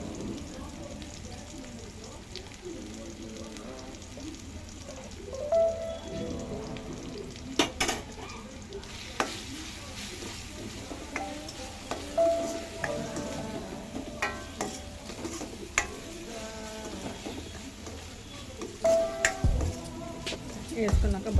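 Fish eggs fry in a pan with turmeric and green chillies, giving a soft continuous sizzle broken by scraping stirs and occasional spoon clinks, fairly quiet and close.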